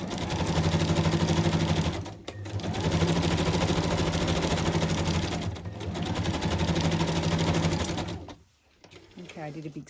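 A sewing machine stitches around a collage page in fast, steady bursts of rapid mechanical clatter, close by, pausing briefly twice and stopping near the end.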